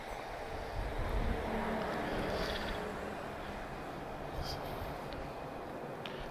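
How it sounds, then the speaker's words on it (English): CFM56 jet engines of an airliner taking off from Madeira Airport, a continuous broad roar that holds steady throughout, heard from a distance with some wind buffeting. "Great sound from the CFM 56 engines. Just doing a right bank on takeoff."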